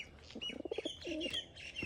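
Soft, low pigeon coos from a nest box repeat in a short sequence, with a few brighter chirps above, close by and moderately quiet, no talking.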